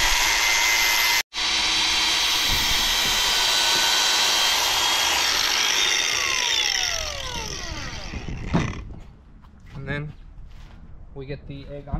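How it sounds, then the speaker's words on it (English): Air gun blowing out a car engine bay, a loud continuous hiss broken by one brief cutoff, then tapering off as people begin talking amid scattered clicks. "We get the air gun and we blow it out."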